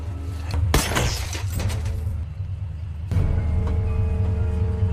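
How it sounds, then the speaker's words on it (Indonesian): A thrown bottle smashes a car headlight, a loud sudden crash with scattering glass fragments, followed by lingering clatter and a steady low rumble. "langsung melemparkan botol yang membuat satu lampunya pecah"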